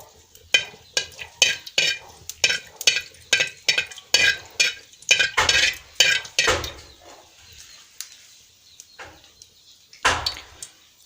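Ghee melting in a pan while a spoon stirs it, heard as a run of quick, sharp metallic scrapes and clinks against the pan in a steady rhythm that thins out and stops, with soft frying underneath, close and without speech.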